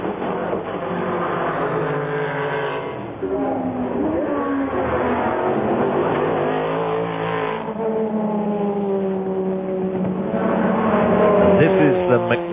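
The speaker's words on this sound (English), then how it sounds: "The Mercedes makes a wonderful sort of American V8 type noise, not the sort of Germanic shrill noise you'd expect, and thunders across the start-finish line" A Mercedes V8 race car at the 1999 Le Mans 24 Hours thunders past, its deep, throaty engine note rising and sustained over about twelve seconds, loud and close, with a commentator talking over it throughout.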